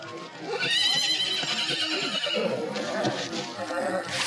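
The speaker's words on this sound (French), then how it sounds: "Après une première ruade, le cheval a trébuché, tombé la tête la première" A black bucking bronco at a rodeo neighs loudly in a long shrill whinny over the bustle of the arena, with faint hoof clatter and crowd noise underneath.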